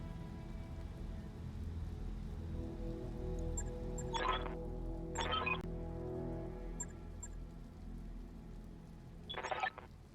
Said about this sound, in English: A hailstorm.